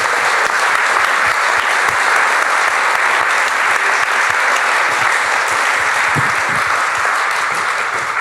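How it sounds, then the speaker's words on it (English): Festival panel audience applauding an artist on stage: a sustained, dense burst of clapping from a large crowd, steady and loud throughout without talk. "Give him a round of applause."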